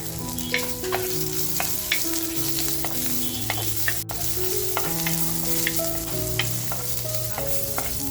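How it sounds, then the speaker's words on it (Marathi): Chopped onion frying in a little oil in a pan for a Malvani-style surmai fish masala, a steady close sizzle with periodic scraping stirs throughout, no one talking. "बघा आता थोडंसं तेल टाकते आणि जो कांदा कापून घेतलाय तो कांदा सुद्धा आपल्याला हलकासा लालसर करून घ्यायचा आहे."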